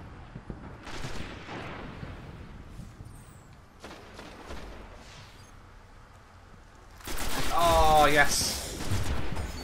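Gunfire in the Destiny beta on PS4 during a zone-capture match, scattered shots early, then a louder dense burst of firing and effects near the end, with a player speaking briefly.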